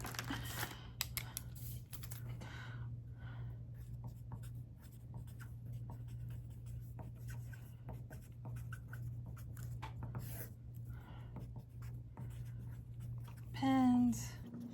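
Pen scratching out a list on paper in a special education classroom, a string of soft scribbling strokes over a steady low hum, with a voice speaking now and then.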